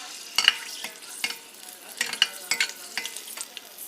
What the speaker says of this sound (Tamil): எண்ணெய் காஞ்சதும் கடுகு கொஞ்சம், 2 பச்சை மிளகாய் இது போட்டுட்டு 1 நிமிஷம் ஃப்ரை பண்ணிட்டு